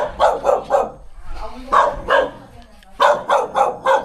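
A dog barks close by in quick bursts of two or three, pausing between volleys, with people's voices around it.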